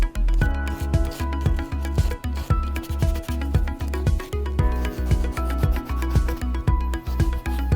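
Countertop edges rubbed with sandpaper by hand, close rhythmic back-and-forth scraping strokes in a steady quick pulse, about three per second, with no talk.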